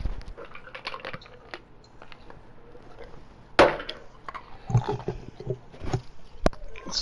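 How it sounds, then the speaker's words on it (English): Chewing right up against a gamer's headset microphone during an online game, with wet crunches and bites scattered through the clip, a louder burst partway through and soft background sounds. "stop chewing your mic"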